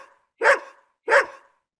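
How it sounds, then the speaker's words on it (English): A recorded dog bark plays back through an augmentative communication app on a device: two sharp, evenly spaced barks, clear and close, with silence between them and no talk. "I have a pre-saved audio of a dog bark."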